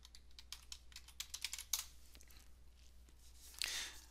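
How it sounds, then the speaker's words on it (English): Rapid keystrokes on a computer keyboard as a username and password are entered, a quick run of light clicks in bursts with a short pause before a final flurry, close and fairly quiet with no talk. "Then, when prompted, enter your username and password."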